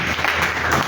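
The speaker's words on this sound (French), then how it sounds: "Acclamez très très fort pour notre Seigneur." A church congregation applauding for the Lord, a short dense burst of clapping that is loud and sustained.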